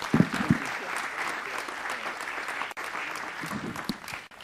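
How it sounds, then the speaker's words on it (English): A city council meeting audience gives a steady round of applause. The clapping is fairly soft and has a few sharper nearby claps at the start and near the end. "Give them a round of applause."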